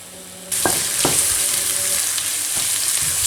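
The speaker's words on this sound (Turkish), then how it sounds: "Bol zeytinyağı döküyorum. Ve havuç ve e, kuru soğanlar karamelize oluncaya kadar pişecekler." Carrots and dried onions fry in a generous pour of olive oil, a loud, steady sizzle that bursts in suddenly, with a few clinks of stirring on the pan and no talking.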